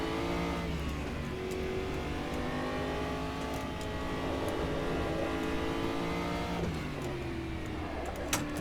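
A front-engined Panoz GTR-1 GT1 race car in the Automobilista 2 racing game roars steadily at high revs, with the engine pitch climbing and dropping through gear changes, loud and continuous with no talking.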